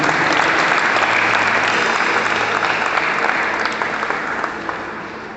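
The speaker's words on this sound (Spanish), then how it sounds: "No sé si pueden dar un fuerte aplauso al Rey de Vida." A church congregation gives loud, sustained applause during a sermon, a thick wash of clapping at close range that stays strong and tapers slightly toward the end.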